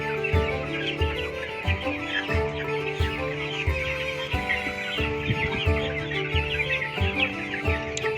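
Chickens cluck and call continuously at a poultry farm holding thousands of birds, a dense overlapping chorus of clucks and squawks at moderate volume.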